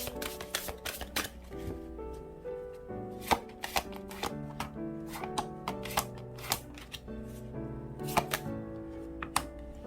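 A deck of tarot cards being shuffled by hand: a close, quiet run of crisp riffling flicks and soft snaps in an uneven rhythm, with no voices.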